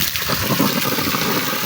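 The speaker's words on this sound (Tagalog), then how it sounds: "Nagpupuno sila ng tubig." Water gushes steadily into a makeshift swimming pool outdoors on a hot day, a constant close rushing and splashing roar with no pauses.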